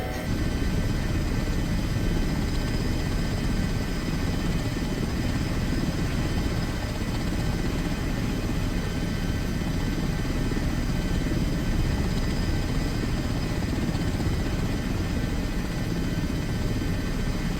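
Airbus H145 helicopter in Microsoft Flight Simulator during a medical rescue mission, a steady loud rotor and turbine whine with dense broadband engine noise, holding constant throughout without talk.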